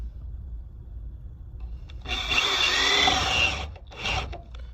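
A power drill bores a shallow recess for a washer and bolt head into a wooden deck board on a utility trailer. After a quiet start comes one loud whirring burst of about a second and a half, then a brief second pulse.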